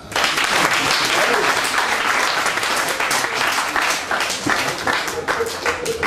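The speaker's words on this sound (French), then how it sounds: "applaudissez-la" A conference audience applauds loudly and steadily, a dense wash of many clapping hands sustained throughout, with faint voices mixed in beneath.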